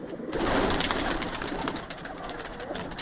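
Pigeons coo steadily up close on a rooftop pigeon loft in Jammu, a soft, throaty burbling that continues throughout, with faint rustling in the background.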